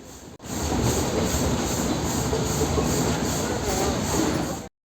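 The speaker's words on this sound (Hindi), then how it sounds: "इनमें से एक टॉय ट्रेन ऐसी भी है जिसकी रफ्तार साइकिल की स्पीड से भी कम है?" The Nilgiri Mountain Railway toy train runs from Mettupalayam toward Ooty, and its wheels rumble and clatter loudly and continuously over the tracks for several seconds before cutting off abruptly.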